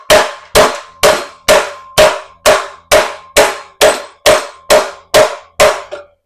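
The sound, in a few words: hammering metal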